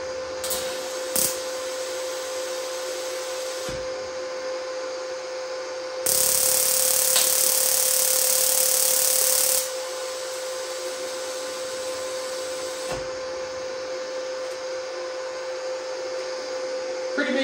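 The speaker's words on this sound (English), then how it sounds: "I'll do a demonstration of a scratch to start and then high frequency start" A TIG welding arc runs close by, a steady buzzing hiss with a thin constant tone, swelling into a louder, harsher high-frequency-start crackle for a few seconds in the middle before settling back.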